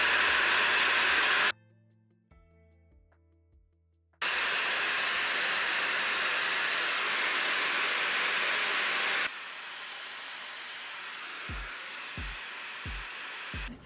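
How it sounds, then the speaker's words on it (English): A Dyson blow dryer fitted with a diffuser blows a steady, loud airy hiss while drying curly hair. It cuts out briefly, starts again, then drops to a softer setting, with a few dull thumps near the end. "Take my Dyson blow dryer with the diffuser attached to it"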